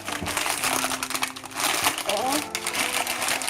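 An instant noodle package is torn open by hand, giving a steady papery crinkling and crackling for a few seconds while a person talks over it.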